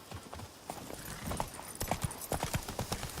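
Horse hooves clip-clopping in The Witcher 3: Blood and Wine, a steady rhythmic trot of hoofbeats on ground that grows louder and more regular as the ride gets under way, with no voices.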